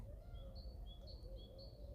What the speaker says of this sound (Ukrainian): Ви чуєте, як щебечуть птахи.